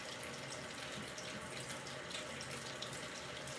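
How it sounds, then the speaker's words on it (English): A kitchen tap runs steadily while water is measured out for cooking chicken, a close, even hiss and splash of the stream filling a container, with no talking. "We need about this much water. I'm going to use 3 full cups of water."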